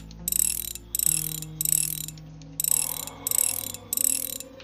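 Motorbike repair in the video game Breathedge: rhythmic mechanical ratcheting bursts, six evenly spaced clanking pulses over a low steady hum, no talking.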